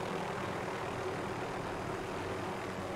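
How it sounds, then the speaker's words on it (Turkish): A helicopter in Call of Duty Warzone gives a steady, even engine and rotor drone that holds at a constant level for the whole stretch, with no talking. "Helikopter var."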